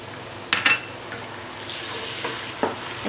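Onions and ginger garlic paste fry in a pot while a spoon stirs them, giving a steady low sizzle with a few clinks and scrapes against the metal. The sounds are close and come without any voices.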